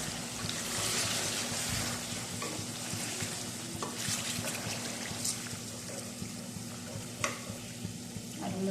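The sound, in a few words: chicken karahi frying with yogurt in a pan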